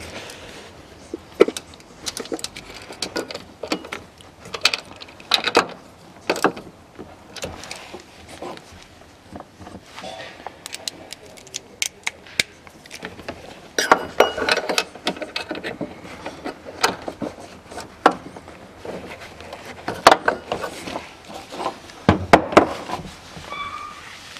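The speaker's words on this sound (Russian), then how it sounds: "и закручиваю гайки." Nuts on the rear shock absorber of a 1998 Toyota Mark II JZX101 being threaded on and tightened by hand tool: scattered close metallic clicks and dull knocks at an irregular pace, with no one talking.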